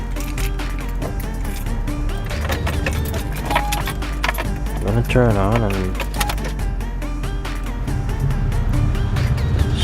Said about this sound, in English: so I just turn on the ignition